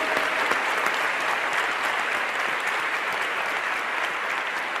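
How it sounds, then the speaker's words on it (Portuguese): A church congregation at the Shalom convention applauds after the Gospel reading, with dense, even clapping that holds steady throughout with no speech. "Vamos dar uma salva de palmas para a palavra de Jesus no Evangelho."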